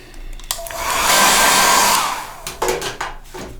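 A hair dryer running over a watercolor painting of a starfish, whirring loud and steady for about a second and a half between soft handling clicks.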